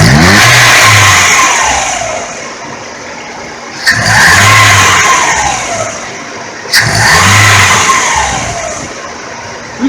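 A car engine with tired piston rings revved during a vacuum gauge test, three sharp throttle blips that each rise and fall back to idle, loud and close, with no talking.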